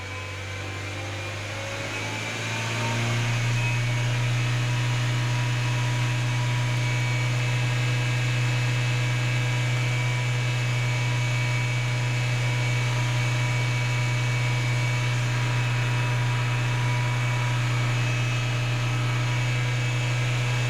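A 1999 Ford Fiesta engine with a cold-stall fault, with fuel smelling strong, climbs from a low idle to a held, raised rev after about two seconds, then drones steadily and loudly with no voices.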